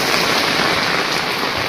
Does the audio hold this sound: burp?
no